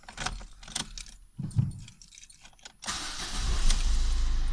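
A Ford Fiesta's keys jangle and click in the ignition, then the engine cranks and catches, settling into a steady, close idle.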